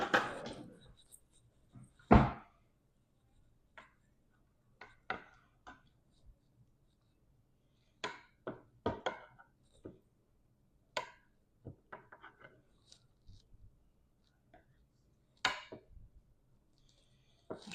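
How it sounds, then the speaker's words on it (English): A knife cutting boiled eggs into quarters for an asparagus, egg and bacon salad: a series of sharp, separate clicks and taps against a board, spaced irregularly, near and fairly quiet, with no talking. "next I will cut these eggs in quarters"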